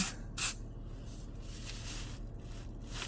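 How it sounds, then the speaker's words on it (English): Body spray with jasmine, pear and patchouli notes spritzed from a can, one short sharp hiss near the start followed by faint quieter hissing, close. "I love body spray anyway, so we are going to smell this."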